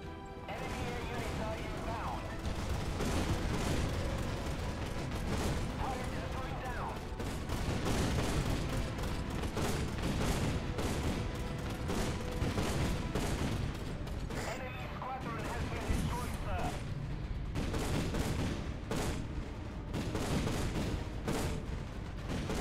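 Dense, sustained anti-aircraft gunfire from a naval battle in the game Battlestations Pacific: continuous loud bursts, rapid shots and booms layered thickly throughout with no pause.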